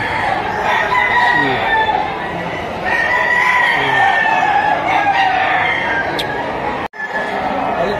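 Roosters crow repeatedly at a gamefowl market, with clucking and busy crowd chatter filling the background throughout.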